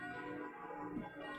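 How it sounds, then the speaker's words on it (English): A church bell tolls in the video game Koudelka, a single faint, resonant strike ringing out over a quiet ambient background with no talking. "What's that bell?"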